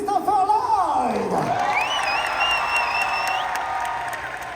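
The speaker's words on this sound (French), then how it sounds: "faites du bruit pour Christopher Lloyd." A convention crowd in Paris cheers and applauds a guest's arrival, a steady wash of clapping and whoops with a loud whistle rising and holding over it, while a voice talks through the start.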